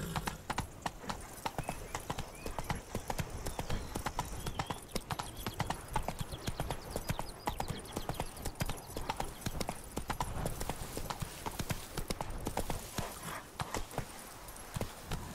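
A horse gallops in The Witcher 3: Blood and Wine, its hooves drumming in a fast, continuous clip-clop that stays close and steady for the whole stretch, with no talk over it.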